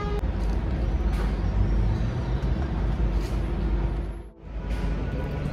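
Dense midday city-street traffic jam, a constant broadband roar of idling and creeping vehicles with a hiss like an air brake, close and loud with a brief dip near the end.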